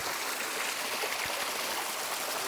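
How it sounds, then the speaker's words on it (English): Low river trickling and flowing into a pool during a dry spell, a steady close broadband rush of water with no voices. "there's still a good pool of water there and it's flowing"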